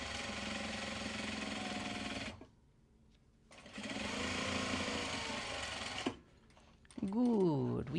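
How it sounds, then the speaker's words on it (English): A sewing machine stitches down the pocket on a bag made of Japanese fabric, running in two steady, loud bursts of rapid mechanical whirring separated by a pause, followed by a short rising whine. "we're going to go in and we're going to stitch down the pocket here"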